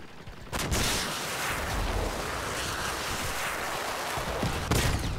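Clarinet TOW weapons firing in the Crossout vehicle combat game, a sustained roar of launches and blasts lasting several seconds, with a sharper burst near the end.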